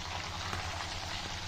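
Fish frying in a pan, village style, gives a steady dense sizzle that holds evenly throughout, close and moderately loud with no talking.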